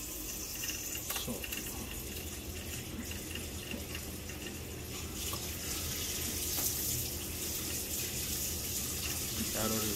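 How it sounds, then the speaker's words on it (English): Hot water tap running at a sink during a boiler check on a Vaillant, Glow-worm or Worcester Bosch system, a steady loud hiss of flowing water throughout with faint talk underneath. "Now turning on with the hot water. Yes, please, turn the tab on."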